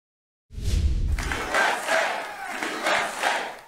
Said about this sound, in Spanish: En medio de una gran ovación en el escenario de la cumbre América First